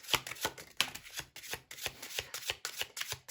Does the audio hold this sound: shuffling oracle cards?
yes